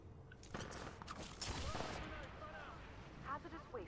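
Gunfire from a weapon in the Titanfall 2 campaign, Blood and Rust mission, sounding as several loud, sharp shots and bursts that cluster near the middle, followed by softer mechanical clatter and game effects, with a voice talking over part of it.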